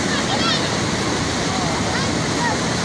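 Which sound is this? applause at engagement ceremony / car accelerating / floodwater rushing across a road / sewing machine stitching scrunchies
floodwater rushing across a road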